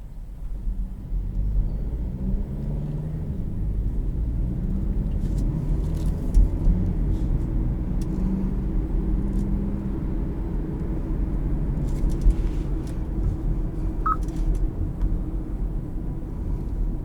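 A 2018 Hyundai Ioniq cruising on a highway produces a continuous low road rumble and cabin drone. Occasional faint ticks rise above it, and no one talks.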